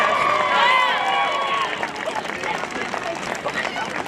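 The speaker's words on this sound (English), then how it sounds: "Let's give a big round of applause for the Independence Mustangs for their success." A crowd applauds and cheers for the Independence Mustangs football team at an end-of-season trophy presentation: loud shouts and whoops at first, then a dense, sustained clapping roar.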